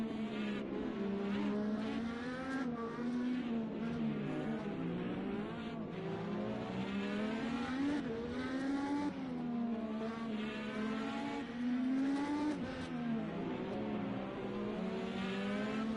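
IndyCar Dallara Chevy race cars lapping the Long Beach street circuit in a racing video game: a steady high engine drone rising and falling through gear changes and braking, continuous and fairly close, with no talk.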